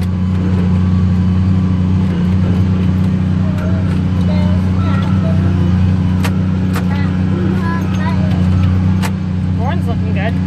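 A small tractor drones steadily while working during wheat straw baling, a continuous low engine rumble that stays loud throughout, with a person talking over it.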